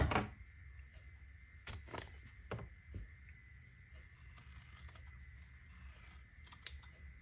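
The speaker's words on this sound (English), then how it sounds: "I think I snipped into the paper" Scissors snip into paper while making a dragon fruit embroidery pattern, giving a few crisp close cuts early on and a sharp snip near the end over quiet room hiss.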